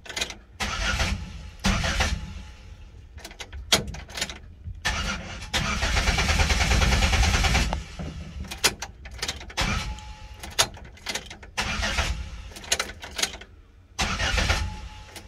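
A 2006 Chevrolet Impala with a no-fire fault cranks without starting, a long loud whirring crank burst in the middle among shorter clunks and bangs, up close with gaps of near silence.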